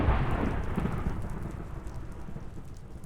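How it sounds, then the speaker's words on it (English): Video game thunderstorm with steady rain and a deep, rolling thunder rumble that fades gradually over a few seconds, heard alone at moderate volume. "I didn't even realize you could hear the thunder from down here."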